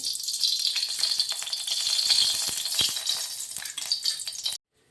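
Mustard seeds, cumin, curry leaves and garlic crackle and sizzle loudly in hot oil, a dense continuous fry with quick pops and rattles, then it cuts off abruptly near the end.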